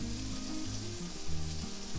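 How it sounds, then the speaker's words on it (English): Sausage gravy sizzles steadily in a cast iron skillet on a stovetop, a continuous close frying hiss with soft shifting underneath and tonal background music running throughout. "Now we're going to move this skillet around a little more"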